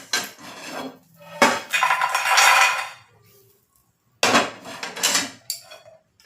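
Roasted makhana is tipped from a cooking pan into a vessel, with metal clattering and scraping in short loud bursts separated by quiet gaps.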